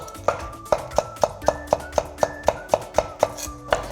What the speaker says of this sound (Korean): 조명으로 올릴 파는 좀 잘게 썰어서 준비를 하겠습니다